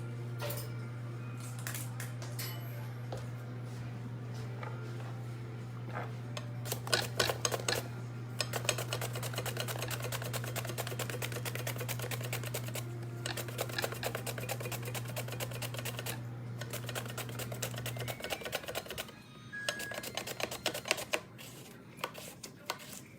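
A knife chops a cucumber on a cutting board for a salad, giving rapid, steady tapping in bursts over a constant kitchen hum, with a pause near the end.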